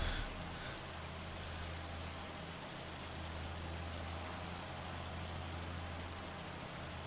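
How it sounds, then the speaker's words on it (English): Hail falling in the video game Farming Simulator 25, heard as a steady, even hiss of pelting ice over a low rumble that carries on without a break. "I really wish that hail would stop."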